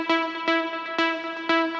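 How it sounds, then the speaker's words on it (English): An Afro House plug melody plays on a bright synth, four plucked stabs roughly every half second over a sustained, harmonically rich tone, upfront with no voices. "So after I finished with the pads, I made this plug melody."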